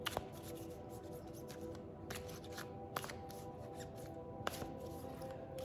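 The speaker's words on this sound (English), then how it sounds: "now I'm going to shuffle and get one for the rest of us" A deck of cards being shuffled, faint crisp riffling and soft slaps of cards with a few sharper snaps, continuous and quiet with no talk.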